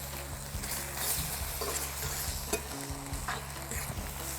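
Veal with spinach and harissa is stirred in a hot pan, a steady close sizzle with scraping strokes of the utensil running throughout, no talking.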